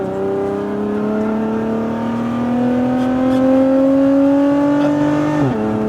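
A Lotus Emira on a track at Speed Vegas holds a strong engine note that rises slowly in pitch while accelerating, then drops sharply near the end as the driver lifts off, heard close and alone without speech.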